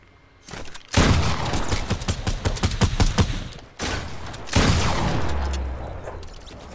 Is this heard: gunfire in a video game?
yes